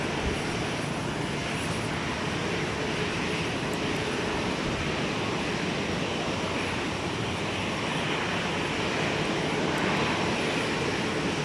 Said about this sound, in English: A321 on the right side of your screen is actually an outbound departure to San Diego, California